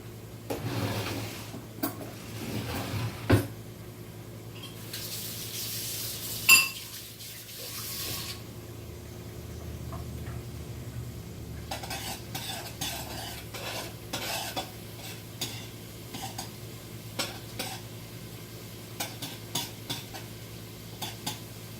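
Food tossed and frying in a pan: a low, steady sizzle with clinks and scrapes of a utensil against the pan, a burst of brighter hiss partway through, then repeated clatters toward the end, with no talking.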